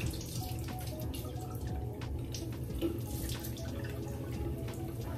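Water runs steadily from a sink tap while someone washes their face, a fairly quiet continuous splash with small drips and splashes throughout and no speech.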